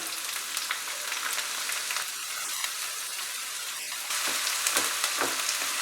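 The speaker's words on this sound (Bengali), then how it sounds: "পেঁয়াজটাকে মিডিয়াম হিটে ফ্রাই করব কিছুক্ষণ" Two medium chopped onions fry in hot oil at medium heat, a steady bright sizzle with soft spatters that grows louder and busier toward the end.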